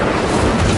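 Incendio fire spell from Hogwarts Legacy, a short, loud roaring whoosh of flame with an explosive, boomy body lasting under a second.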